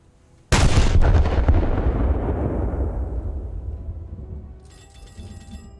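A single heavy naval cruiser gun blast in a warship video game booms close and loud, then rolls into a long fading rumble with faint mechanical chatter near the end.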